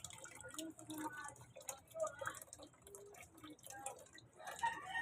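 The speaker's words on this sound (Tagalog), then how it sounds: "magpupuno tayo ng tubig para marami. Pero, et mahina oh. Mahina to, no?" Weak tap water trickles and drips into a container for communal laundry in a Tondo, Manila barangay, faint and uneven, with soft voices and background noise around it.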